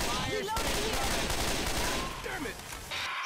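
Rapid burst gunfire from Left 4 Dead 2 crackles in quick volleys over a busy game soundscape, while a voice speaks at moments over the shots.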